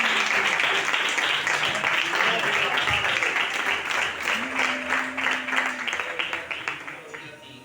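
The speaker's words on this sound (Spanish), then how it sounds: "Le damos un aplauso al Señor." A church congregation applauds together, dense clapping that holds steady then slowly thins out near the end, with a faint sustained voice or tone briefly under it.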